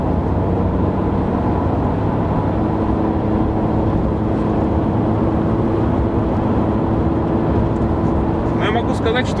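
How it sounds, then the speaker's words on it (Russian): Steady broadband road and engine drone inside a Nissan Sentra cruising at 100 km/h, loud and unbroken throughout, with a faint higher sound near the end. "Nissan Sentra шумнее на скорости 100 км в час, чем Porsche Cayenne"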